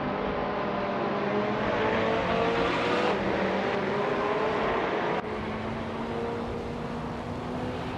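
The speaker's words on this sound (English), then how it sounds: "Architect is driving a 2010 BMW M3 GT4" A 2010 BMW M3 GT4 racing in a video game, its engine note holding a steady drone that climbs gradually through gear changes, with other cars faintly in the mix.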